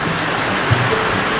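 Heavy rain pours down at a campsite, a dense steady hiss of falling water, loud and unbroken throughout.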